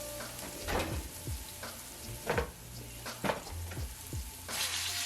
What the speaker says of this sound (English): here I'm going in with my shallots and my scallions. Just let those cook until they get translucent and brown.